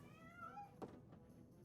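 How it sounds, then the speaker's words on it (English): Cat meow inside the fantasy online game Lord of the Rings Online, a short drawn-out tonal mew with a falling pitch, faint and soft over quiet game ambience, followed by a brief thump. "Y'all heard that cat meow?"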